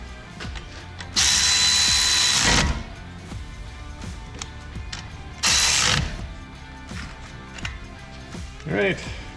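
Ratchet tightening brake caliper bolts on a 2015 Toyota Highlander, heard as two loud bursts of rapid clicking, each about a second long, followed by a shorter one near the end, with light workshop noise and talk in between.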